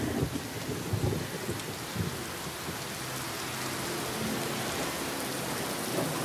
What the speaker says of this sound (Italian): Ma piove!